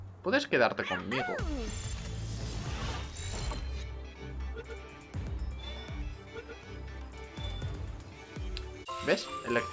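A cat creature in the video game Palworld gives a few rising and falling meows at the start, then battle noise and thuds follow under continuous talking.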